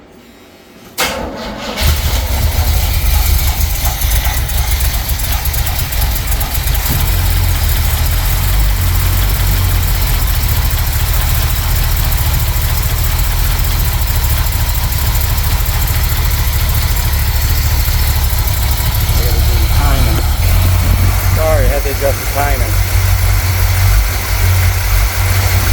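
A 1976 Corvette C3 with a small block Chevy 350 L48 V8 cranks and catches, then settles into a loud, steady, close idle with an even low rumble that holds for over twenty seconds.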